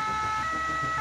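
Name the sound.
ambulance siren as ambulance departs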